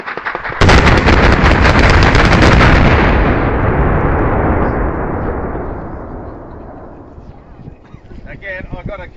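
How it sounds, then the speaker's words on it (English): A mine blast pattern fires in sequence from booster to booster, beginning abruptly with a loud, rapid crackling roar that rolls and slowly fades over several seconds, followed by faint distant rumble and brief wind. "This is how a pattern would fire if it was just one row"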